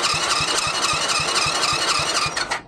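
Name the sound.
Mini Jeep engine being cranked over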